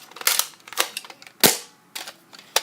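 Several sharp snapping pops from a Nerf toy gun firing sticky foam bullets, five or so short bursts spaced irregularly, close and fairly loud with no talk.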